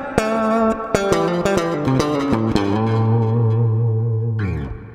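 Electric bass played with heavy compression and some reverb, with punchy attacked notes and a sustained low run that rings out alone.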